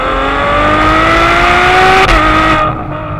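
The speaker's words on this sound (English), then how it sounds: "you just get a wave of frantic power as the engine nears its limit" A Ferrari 812 Superfast's engine revs hard toward its limit near 8,900 RPM, a loud rising wail with a brief dip partway through, then it fades.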